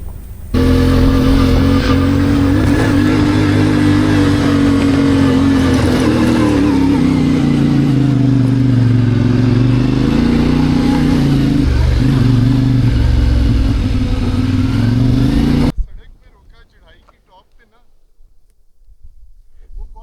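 An offroad vehicle strains up a steep, rough hill climb in the Margallah Hills near Islamabad, its engine roaring loud and close under heavy revving for about fifteen seconds before cutting off abruptly into near silence.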